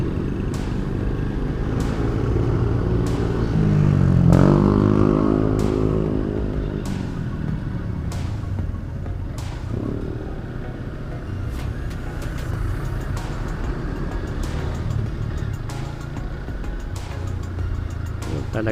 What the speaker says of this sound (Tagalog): Ganito rito ka-traffic araw-araw